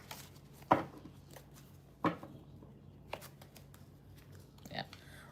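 Tarot cards shuffled during a reading: a few sharp riffling snaps spaced apart over a quiet room background, with soft handling noises between them.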